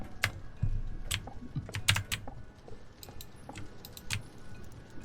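Typewriter keys clacking in the Roblox horror game Doors, a loose run of sharp separate strikes at an uneven pace, moderately close over a low background hum, with no talk.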